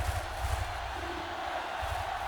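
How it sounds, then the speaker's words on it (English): A home crowd cheers for its defense at a football game between the Demons and the Rhinos, a steady, distant roar of many voices that stays even throughout, with no one speaking up close. "as the home crowd cheers for their defense"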